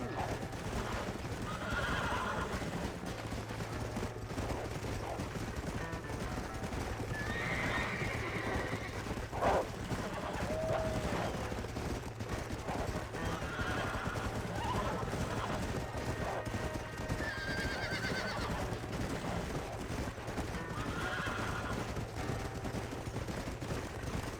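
Horses whinnying and snorting with hooves clip-clopping in the Red Dead Redemption video game, set against a continuous wind-like outdoor ambience and low rumble, with occasional sharp distant bangs.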